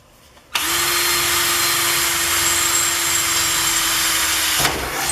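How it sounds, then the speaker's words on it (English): A power drill bores a hole through wood in a workshop while a rolling cart for a planer is built, one steady loud whine that starts abruptly and runs continuously before cutting off. "And we'll drill a hole through there."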